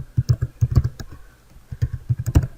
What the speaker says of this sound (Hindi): एक और लिंक यहाँ पर टाइप करता हूँ